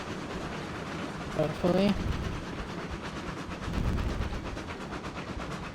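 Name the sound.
train riding along track in video game Railroads Online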